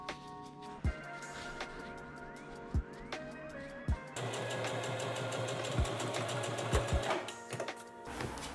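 A sewing machine stitches fabric extensions onto a pair of long trousers, its needle running in short bursts, then settling into a loud, steady hum with rhythmic clatter and a few sharp thumps.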